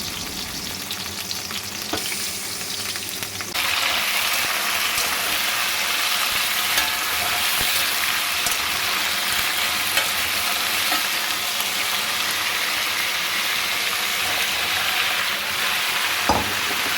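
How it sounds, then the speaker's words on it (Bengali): Vegetables sizzle in hot oil in a kadai for a vegetarian Malabar spinach (pui shak) dish, a steady frying hiss that swells louder after a few seconds and continues with faint stirring clicks, no voices. "তেল গরম হয়েছে, একে একে আমি সমস্ত সবজি দিয়ে ভেজে নেব।"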